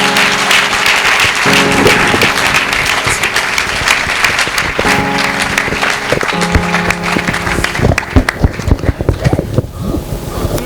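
A church congregation applauds after a sermon at a revival gathering, dense loud clapping that carries on steadily before thinning into scattered claps toward the end.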